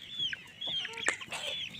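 Chickens on a free-range backyard farm clucking, with several short, close clucks and squawks over quiet rural background.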